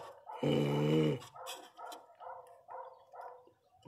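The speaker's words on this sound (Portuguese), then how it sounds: "Ela tava rosnando." A pinscher puppy makes a long close growl-whine, then a string of short yips and grumbles in quick succession, fairly faint and with no talk over them.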